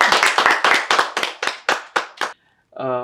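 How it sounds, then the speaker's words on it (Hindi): An audience at an interview taping claps in a series of about a dozen distinct, fairly close hand claps that slow and thin out, followed by a brief silence and then a voice speaking. "तालियां हो जाए एक बार"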